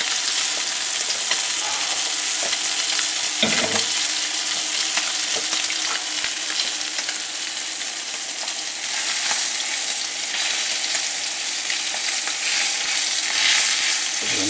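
Branzino pan-searing skin-side in a generous amount of oil, a loud, dense, continuous sizzle and crackle with occasional sharper pops.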